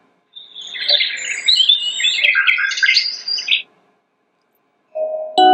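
Several birds chirp and tweet in a lively, overlapping chorus from the birds setting of a PICTEK night light white noise machine for a few seconds, then fall quiet before a brief different sound begins.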